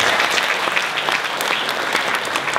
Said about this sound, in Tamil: டாக்டர் ராமதாஸ் அவர்களுக்கு ஒரு மிகப்பெரிய கைத்தட்டை நம்ம கொடுக்கணும்.